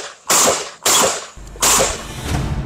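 Three loud, close shots from a homemade surit-surit gun ring out in quick succession, each a sharp crack with a short ringing tail, in a re-enacted scene.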